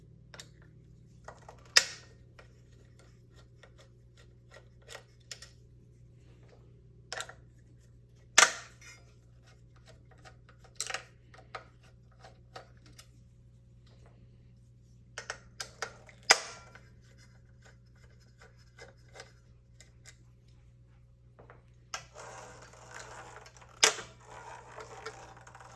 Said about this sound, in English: The next step is to remove this drum with the 4 millimeter Allen screws.